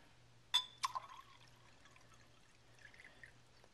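Water pours and splashes in a couple of quick bursts, then trickles softly. The sound is quiet and close, with no talking.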